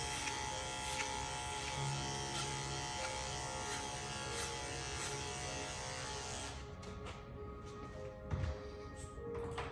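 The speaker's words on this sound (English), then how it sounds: "That little thing I do there where I flick my wrist with the clipper, that gets a lot of the hair debris off of the clipper" Electric hair clippers buzz steadily and close by while cutting a man's hair during a basic men's haircut, with a continuous drone that changes tone near the end as the clipper lifts away.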